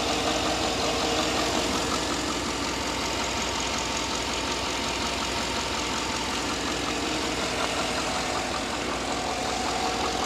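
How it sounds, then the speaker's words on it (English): A car engine idles after a Seafoam treatment, running as a steady, even mechanical hum with a faint rhythmic ticking, heard close and alone without talk. "And I believe the engine sounds really good as well now."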